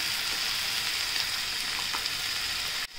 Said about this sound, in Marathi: छान परतून घेऊ आणि झाकण ठेवूया